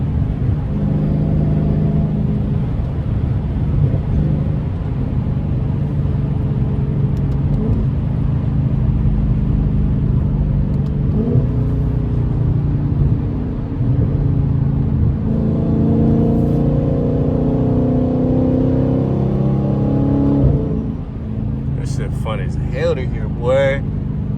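A Dodge 392 Scat Pack V8 fitted with a loud aftermarket intake gives a steady, deep rumble throughout, swelling into a stronger drone near the end, while someone talks over it.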